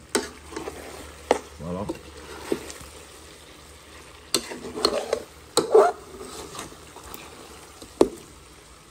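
Chicken curry with chayote frying and crusting in a pot, with soft sizzling and occasional stirring scrapes and clinks up close, under a brief spoken word.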